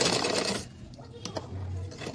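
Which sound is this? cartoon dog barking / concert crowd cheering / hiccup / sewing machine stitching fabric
sewing machine stitching fabric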